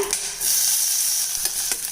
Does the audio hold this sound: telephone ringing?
no